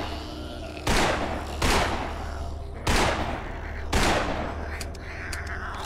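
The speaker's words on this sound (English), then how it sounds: "Time to use the trusty pistol." Pistol fire at zombies in the video game Invasion 2037: four sharp, loud shots spaced about a second apart over a low steady background drone, each shot leaving a short decaying tail.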